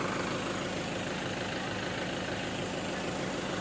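An Isuzu Elf minibus engine idles steadily while warming up after a week of sitting, a close, constant low rumble with an even texture throughout and no voices.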